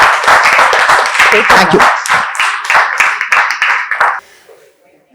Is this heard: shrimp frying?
no